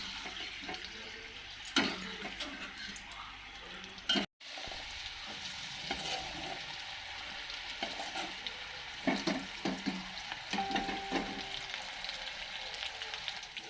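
Chickpeas (chana) frying in a pan give a continuous soft sizzle with scattered stirring scrapes and clatters, close but moderate in level, with one very short drop to silence near the middle.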